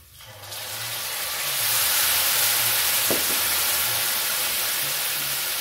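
Bacon sizzles steadily in a hot pan with garlic paste, a dense, loud frying hiss that swells over the first couple of seconds and then holds, with a faint stir scrape midway and no voices.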